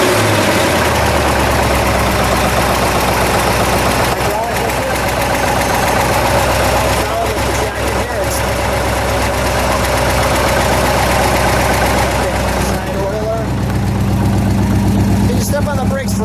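A 1966 Shelby Cobra 427 V8 idles steadily and loudly close by, a deep rumbling burble that holds throughout with slight unevenness, while people talk over it.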